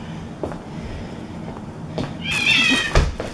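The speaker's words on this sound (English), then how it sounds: "Oops, sorry, stepped on the cat's tail." A house cat lets out a sharp, close meow after its tail is accidentally stepped on, rising briefly over soft footsteps and household shuffling.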